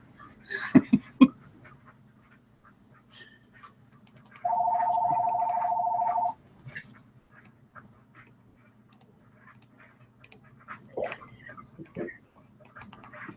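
A telephone gives a single steady electronic ring lasting about two seconds midway through, standing out against a quiet background with a few brief clicks and bumps.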